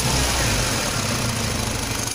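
A car engine idling with a Bosch 602 TBI idle actuator installed and running: a loud, steady broadband mechanical drone with a faint low pulsing rhythm, close up and uninterrupted, with no voices.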